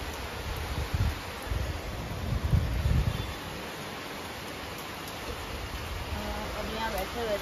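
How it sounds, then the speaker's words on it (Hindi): Heavy evening rain pouring down, a dense steady hiss and patter filling the background, with low rumbling bursts and faint voices near the end. "इतना तेज से बारिश स्टार्ट हो गया है"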